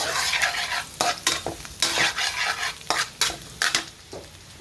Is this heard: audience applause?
no